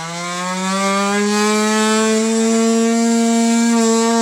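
A high-speed cutting tool slices plastic bumper trim on a 2022 Nissan Pathfinder, giving a loud, steady, close-up whine whose pitch climbs slightly as the cut goes on.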